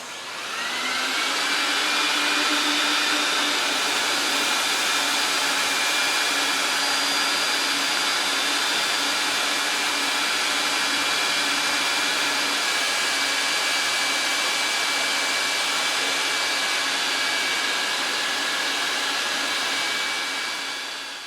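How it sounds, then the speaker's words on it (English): A commercial XpetPee vacuum machine runs steadily while cleaning a wool oriental rug for urine odor in a warehouse, giving a loud, continuous motor whine and suction roar with sustained high tones and no talking. "See how the vacuum working in PetPeePee warehouse."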